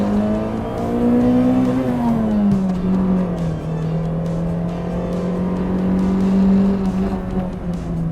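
A 1980s Toyota Corolla GTi-16 AE92 with its 4A-GE twin-cam engine revs steadily and loudly past 6000 rpm, the smooth high-pitched note climbing, dipping slightly and then holding near a constant high speed for several seconds, with no talk.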